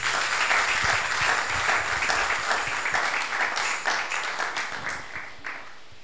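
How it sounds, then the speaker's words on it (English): A church congregation claps together in sustained, dense applause at a worship service, loud at first and gradually thinning and fading toward the end. "Can you clap for Jesus?"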